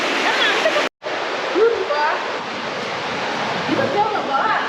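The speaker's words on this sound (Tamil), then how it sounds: "அதான் அந்த ஃபால்ஸ், அதான் ஃபால்ஸு." Roaring waterfall in the Aareschlucht river gorge: a dense, continuous rush of falling water close by, briefly cutting out once near the start, with a person talking faintly over it.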